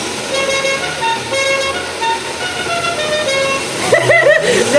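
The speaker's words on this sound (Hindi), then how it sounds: "आपने जो गाड़ी के अंदर हॉर्न लगवाया ना, वो है ना आइसक्रीम की कुल्फी की रेडी जैसा है" A car horn in the video game GTA 5, resembling the tune of a kulfi ice cream cart, plays as a short warbling melodic phrase near the end, loud over a steady hum of game engine and traffic noise.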